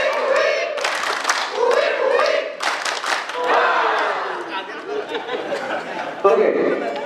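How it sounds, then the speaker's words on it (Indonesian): A lively crowd at an audience event in Bali claps and cheers with shouts and laughter mixed in, rising and falling in bursts over several seconds. "Tepuk tangan semangat."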